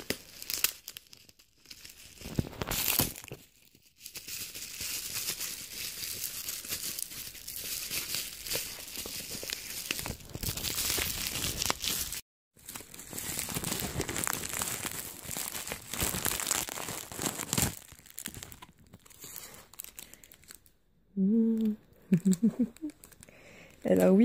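Tamagotchi packaging with a small bag of candy being opened, with bursts of crinkling and tearing plastic and paper, close and fairly loud, broken by short pauses and a few brief spoken sounds near the end.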